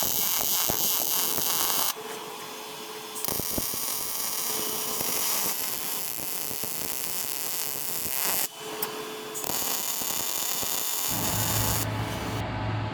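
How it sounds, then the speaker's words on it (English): MIG-style welding on the front joints of a steel welding cart gives a loud, continuous crackling buzz in several long bursts, with brief pauses between welds. "I'll go ahead and finish weld those front ones"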